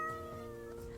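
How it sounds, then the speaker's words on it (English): A short cat meow sound effect triggered during a live stream, a single drawn-out, faint mewing tone heard alone. "Thank you for the cat noise."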